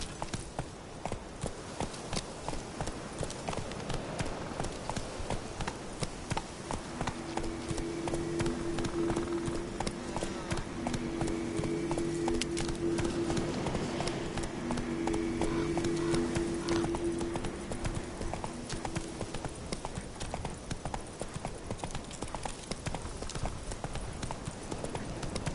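Horse hooves clip-clop at a steady, close pace throughout a ride in the video game The Witcher 3: Wild Hunt, with a sustained tonal layer swelling in the middle.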